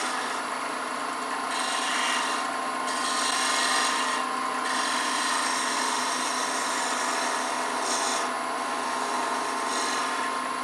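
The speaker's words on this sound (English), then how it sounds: "I'd feel more comfortable in this narrow space in here with this little tiny detail gouge" A small detail gouge cuts wood on a lathe while turning a captive ring goblet, making a steady hissing, scraping drone with a few brief surges in intensity, close and continuous.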